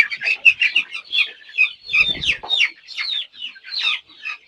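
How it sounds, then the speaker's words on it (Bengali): Tiger breed chicken chicks peep and cluck continuously, a close, lively chorus of high chirps overlapping in rapid succession, with a brief low rustle midway. "মুরগি বাচ্চাগুলো কিন্তু বেশ সুস্থ রয়েছে"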